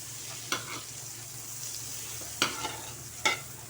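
Butter melting in a hot pan for garlic butter chicken wings, a steady soft sizzle with a few sharper crackles and utensil scrapes, close by, no talking.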